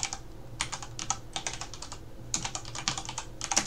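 Keystrokes on a computer keyboard come in quick bursts of clicks separated by brief pauses, with a low steady hum underneath, fairly close and moderately quiet.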